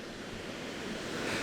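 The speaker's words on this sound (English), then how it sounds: "there's some really close breakers" Close ocean breakers wash steadily onto a beach, stirring sand, a continuous soft roar of surf with some wind noise and no voices.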